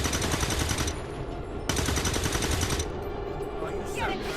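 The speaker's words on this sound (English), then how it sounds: "Open fire, girls." Rapid automatic gunfire in the XCOM 2 War of the Chosen video game, two long sustained bursts of loud crackling shots separated by a brief gap, with a soft voice faintly underneath.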